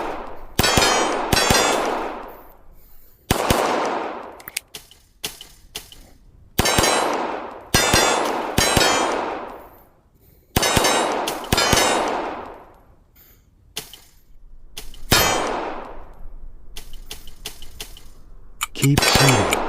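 Gunshots ring out at a shooting session, a dozen or so loud, sharp reports spaced irregularly, several with metallic clang and long decaying ring, close and unaccompanied by speech.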